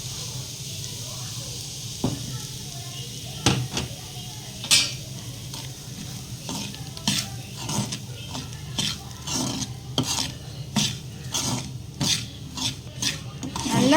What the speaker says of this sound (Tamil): அதே பேனில் அதே நெய்யில் இப்போ ரவையும் வறுத்துக்கலாம்.